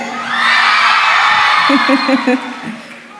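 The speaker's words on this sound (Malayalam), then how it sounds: "ഈ സൈഡ് മാറി എന്റെ പിതാവേ ഈ സൈഡ് കൈയടിച്ചേ" A crowd of fans at a singing show cheers and whoops loudly and steadily, a sustained roar that swells near the start and eases toward the end, with a voice briefly rising above it.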